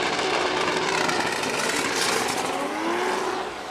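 Drift car engine revving hard on the Okayama circuit at a Formula Drift Japan top-16 battle, a loud continuous roar with rising and falling pitch over crowd and track ambience.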